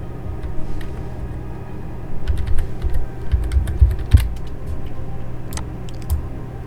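A password typed on a computer keyboard while connecting to a Windows 10 remote desktop: a quick burst of light key clicks, close and clear over a low steady hum, then a few scattered taps.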